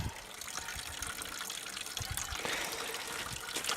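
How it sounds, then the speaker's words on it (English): Gasoline draining from the fuel tank of a Honda WB20 XT water pump, a steady close liquid trickle and splash that runs continuously with small bubbling bursts, and no one speaking. "while I'm letting the gas drain out of that tank"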